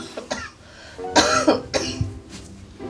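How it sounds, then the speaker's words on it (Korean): A person coughs several times in quick bursts, close to the mic, a harsh throaty sequence followed by a lower cough. "기침 나"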